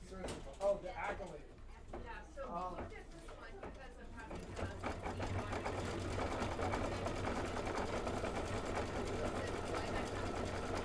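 An embroidery sewing machine stitches a decorative outline stitch, a fast steady mechanical whirring that builds and continues, while people talk over the start.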